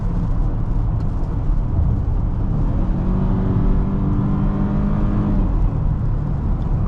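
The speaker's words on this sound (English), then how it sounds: "look at how responsive this powertrain is right away" A 2023 VW Atlas SE V6 SUV accelerates in normal mode, its engine droning steadily from inside the cabin with a rising hum and continuous road noise throughout, no voices.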